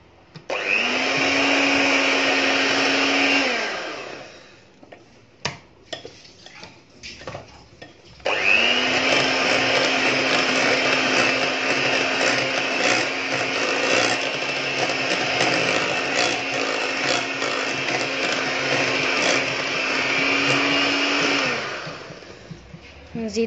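An electric mixer whirs loudly through madeleine batter in two long steady runs, with a short pause and some clatter in between.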